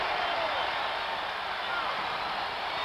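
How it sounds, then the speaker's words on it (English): A huge baseball crowd at Fenway Park during Game 6 of the 1975 World Series, Reds at Red Sox, roars in a sustained, even wash of cheering that holds steady throughout, with no distinct voices standing out. "And listen to that crowd."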